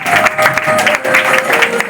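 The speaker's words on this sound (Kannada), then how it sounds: "ಜೋರಾದ ಚಪ್ಪಾಳೆ" Loud applause rings out at a special school's anniversary function, a close, bright burst of many hands clapping together for about two seconds.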